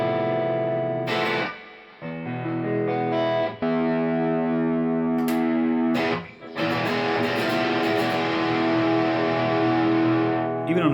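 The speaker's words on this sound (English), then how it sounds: "Even on a pretty high gain setting, you can just roll off the volume and it takes away the distortion" Heavily distorted electric guitar, a Fender Road Worn 50s Telecaster on a high-gain setting, rings out in sustained chords, with a few brief pauses between strums and a dense, buzzing tone throughout.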